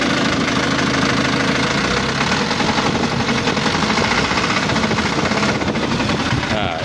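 An Isuzu Elf NLR 55 diesel engine running rough with a loud, continuous knocking clatter, attributed to a cracked crankshaft after a recent engine overhaul, heard close up with no talking.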